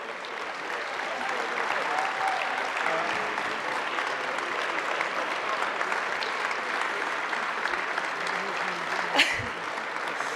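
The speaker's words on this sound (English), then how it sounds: "you can keep clapping too" An audience applauds inductees at a Saskatchewan Roughriders Plaza of Honour ceremony, with sustained, dense clapping from a large crowd that stays steady throughout and ends with a brief louder clap or thump.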